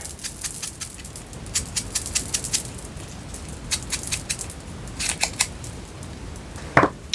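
Scissors trim yellow paper for handmade book page envelopes. Crisp, close snips come in irregular clusters over a quiet background, ending with one louder cut.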